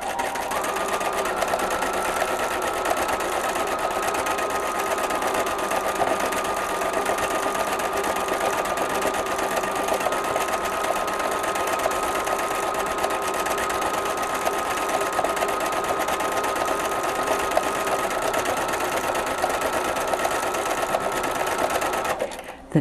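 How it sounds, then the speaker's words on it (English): A sewing machine runs steadily at close range for over twenty seconds, contour stitching with 30 weight Star thread around a circle motif on a beach bag, a continuous even whir without pauses until it stops at the end. "smooth contour stitching. I am following the contours of the circle and filling in."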